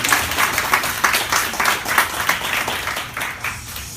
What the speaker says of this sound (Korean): 우리 반주자들 위해서 한 번 더 박수하겠습니다